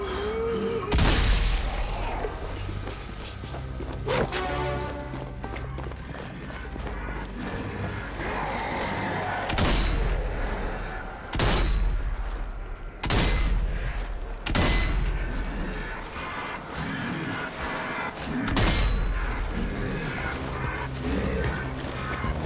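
Gunfire and heavy booms in the zombie shooter Zombie Army 4, during a zoo-themed mission: repeated loud blasts and bursts of shots with an intermittent crackling between them, over a constant dense game soundscape.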